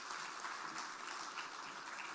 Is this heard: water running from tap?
no